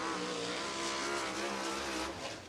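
A USAC sprint car lapping Lincoln Park's track during qualifying, a loud, close, continuous high-revving engine roar with dense harmonics that fades slightly at the end.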